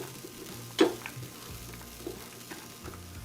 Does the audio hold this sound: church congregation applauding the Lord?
no